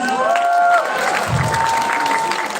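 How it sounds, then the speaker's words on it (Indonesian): A crowd at a youth talk show event claps steadily and loudly throughout, with a voice briefly audible over the applause at the start. "Tepuk tangan."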